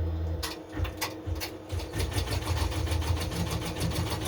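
An embroidery machine stitches a polo shirt at high speed, producing a fast, steady mechanical rattle after a few uneven clunks as it starts.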